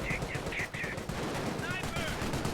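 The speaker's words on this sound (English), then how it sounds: "There are some commandos firing away." Commandos firing away in Company of Heroes 1, a Panzer Elite versus British match, amid a burning garrison: sustained game gunfire rattles steadily through the short clip, dense and fairly loud, with a few brief whistling effects near the end.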